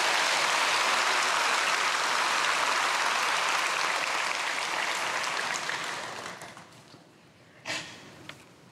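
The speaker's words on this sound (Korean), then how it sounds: "박수를 해줘요." A church congregation at a Sunday worship service applauding, a broad sustained clapping from many hands that swells then tapers off over several seconds, ending with a few isolated claps and near quiet.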